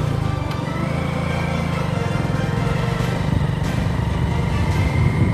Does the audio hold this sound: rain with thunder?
no